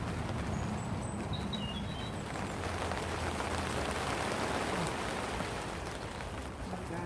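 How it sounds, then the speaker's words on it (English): Steady rain falls outdoors in a garden while plants are being potted, a continuous even hiss of drops throughout with a few faint bird chirps near the start. "There we go again with the rain."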